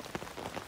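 Heavy rain drums on a camping tent and tarp, a dense steady patter with a few louder drop hits, close and continuous with no talking.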